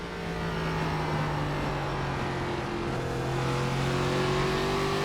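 An ARCA race car in iRacing at Kern County Raceway roars at full throttle on the oval, a loud, continuous engine drone whose pitch slowly climbs, with no talking.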